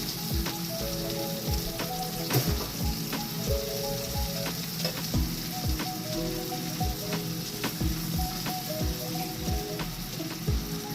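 Butter sizzles and crackles steadily in a pan with an egg frying, a continuous close crackle peppered with small pops, and faint background tones running underneath.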